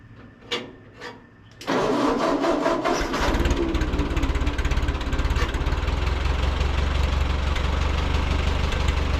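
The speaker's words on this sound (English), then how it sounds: "Engine fired right up." A 1948 Ford 8N tractor engine cranks with a couple of short turnover bursts, then catches and settles into a steady, loud, close idle that runs to the end.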